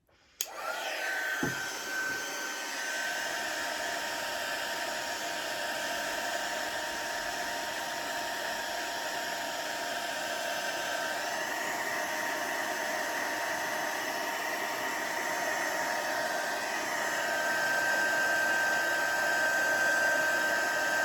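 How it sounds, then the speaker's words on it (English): Heat gun blowing over freshly poured resin to pop surface bubbles, a loud continuous airy roar with a steady motor whine that holds unbroken for the full length. "I need to hit them with the heat gun."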